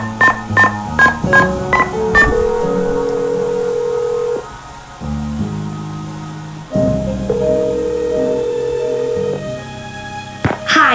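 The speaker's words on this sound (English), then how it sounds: "I'm gonna phone the people in Nancy's life." Telephone keypad tones in the Nancy Drew game Stay Tuned for Danger: a quick run of dial beeps followed by long ringing tones with short gaps between them, loud and clear.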